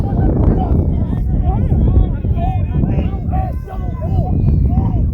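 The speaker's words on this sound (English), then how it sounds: "Oh, that wind's bad, Ross." Gusty wind buffets the microphone at an outdoor flag football game, a loud rumbling roar that carries through while a voice talks over it.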